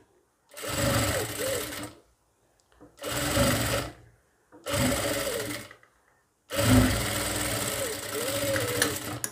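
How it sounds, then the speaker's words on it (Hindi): A sewing machine runs four bursts of stitching along a blouse seam, each lasting about one to two seconds, separated by short pauses. The machine is close, loud and steady, with no talk over it. "अब मैं यहाँ पर एक खाली सिलाई चलाऊँगा"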